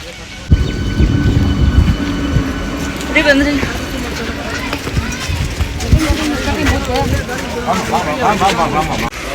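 A crowded passenger train sits at a station, its rumbling and bustle running throughout as people talk close by and wind buffets the microphone.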